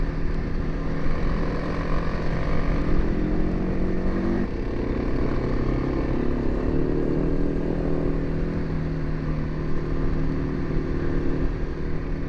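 Kawasaki KLX 300 dirt bike riding on a light sandy graded road, its single-cylinder engine droning steadily and close with small shifts in revs and a brief throttle change midway, accompanied by wind and road noise.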